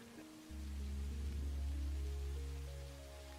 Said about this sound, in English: Rain's coming back into the game as well